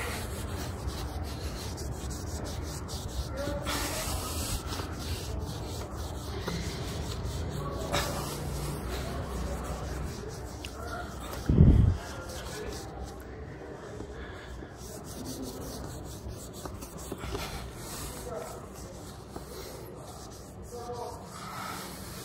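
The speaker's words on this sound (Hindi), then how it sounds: "दोबारा कपड़े से हम इसको रगड़ेंगे।" A cloth rubs firmly with medium pressure over a scratch in car paint, making a steady close scrubbing and rasping sound that runs throughout, with one brief louder thump partway through.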